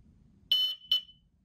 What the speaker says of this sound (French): la sirène a retenti 2 fois, donc ça veut dire que la protection est activée